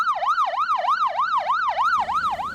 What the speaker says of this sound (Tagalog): Hanggang sa dumating ang isang ambulansya.